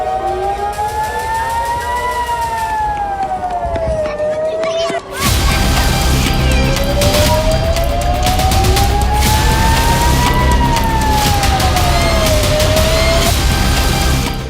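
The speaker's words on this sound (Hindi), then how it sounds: "इजराइल की राजधानी तेल अवीव में एक सायरन बजा" A wailing air raid siren in Tel Aviv, Israel rises and falls slowly, loud and sustained, with a burst of louder crowd and street noise joining partway through.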